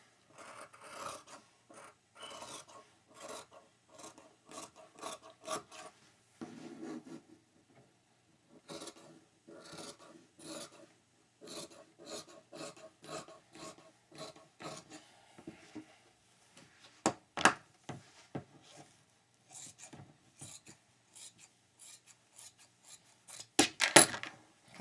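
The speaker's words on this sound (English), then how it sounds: "I'm now going to cut it all off." Scissors cutting a skirt pattern from paper or fabric in short, rhythmic rasping snips, close and fairly quiet, with pauses between runs and a few sharper clicks near the end, no talking.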